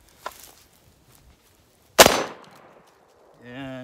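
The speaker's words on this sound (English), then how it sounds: "Let's see how fast we can get these 20 rounds off." A Century Dynamics shotgun fed from a large drum magazine fires once, loud and close, after a faint earlier click, then a short droning tone follows as the rapid string stalls.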